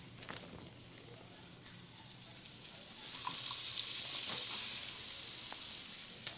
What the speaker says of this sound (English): I saute onions